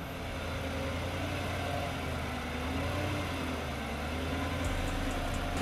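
An Infiniti QX80 SUV drives off-road in low-range gearing, its engine giving a steady, dense rumble with a low drone throughout and no voices.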